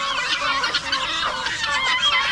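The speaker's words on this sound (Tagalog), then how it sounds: "Yan po ang tandang natin ngayon oh." A large rooster, kept as breeding stock, clucks and calls steadily among other fowl close by, a dense continuous layer of bird chatter with no voices.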